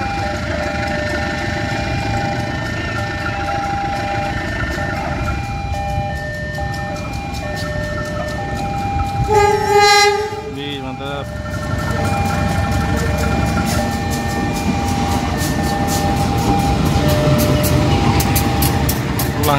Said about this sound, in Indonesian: Berjalan lokomotif.